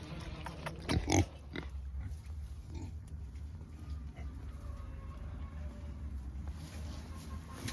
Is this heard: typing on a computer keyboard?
no